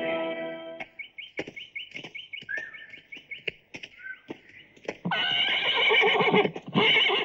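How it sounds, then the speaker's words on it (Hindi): A horse in a Hindi action film neighs in a long, loud whinny near the end, after a stretch of chirping bird calls and sharp clip-clop knocks. "लीजिए मेम साहब, आपका घोड़ा तैयार है।"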